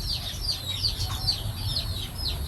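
Quick bursts of clucking from a fighting rooster repeat at a steady pace, fairly close, over a persistent low background rumble with no voices.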